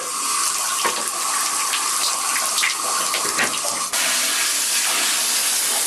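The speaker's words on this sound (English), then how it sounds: "So now we're going to get the water going" Water gushes steadily and loudly through an indoor tabletop water fountain being cleaned, with a brief shift in tone partway through as the flow continues without any voices.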